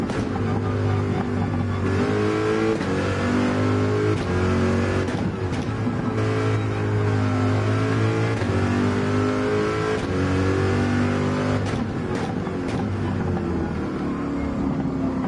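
A race car engine in Gran Turismo 7 revs hard through a corkscrew section, rising and falling in pitch as it shifts gears, loud and continuous throughout without talk.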